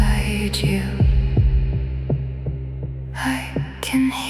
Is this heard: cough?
no